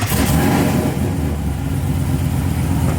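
A 2020 Chevy Silverado 1500 RST with a Whipple supercharger revs hard, its engine and exhaust making a loud, rough, continuous roar with a broad rumble that holds steady throughout.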